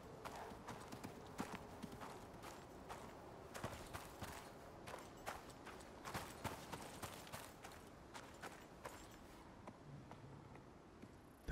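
A goat walks through the wilds in the video game Icarus, its hooves making quiet, irregular clip-clop steps that tap on and off throughout against a faint background.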